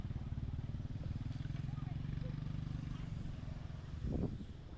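Small motorcycle passing on a hot, dry island path during a walk, a steady low engine putter close by that swells briefly near the end, with a voice talking over it.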